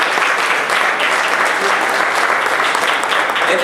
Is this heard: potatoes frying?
no